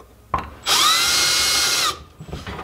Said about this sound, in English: we're just gonna drill a hole through the bottom